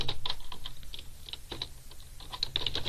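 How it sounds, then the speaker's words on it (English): Fingers tap on a computer keyboard in quick irregular bursts of close, crisp keystrokes with short pauses between them. The sound is fairly quiet and no one speaks. "I'm just going to type it here"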